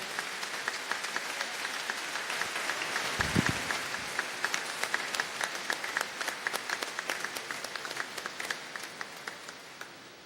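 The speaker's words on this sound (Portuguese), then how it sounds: "Peço mais uma vez uma salva de palmas para recebermos Maria" A crowd at a formal ceremony applauds to welcome Maria Tereza Goulart. Clapping carries on steadily throughout at a moderate distance, with sharp individual claps standing out near the end.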